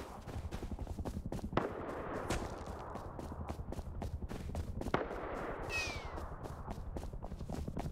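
Gunfire in the survival game Rust, dense rapid shots rattling almost continuously with a few louder single cracks, heard at moderate level over constant background rumble, with no voices.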